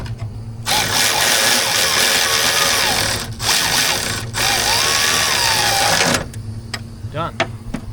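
A power ratchet tightens bolts while ECMs are installed on a military HEMTT truck, loud buzzing whirring runs in three long bursts at close range, with short gaps and faint rattles after.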